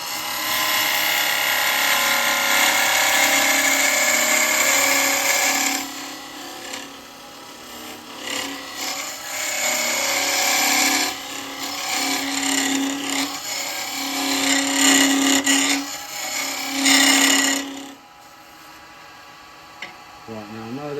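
Woodturning lathe and chisel cutting a taper on a wooden mead cup, giving a rough rasping scrape that comes in long passes with brief pauses, loud and close, while the lathe hums underneath.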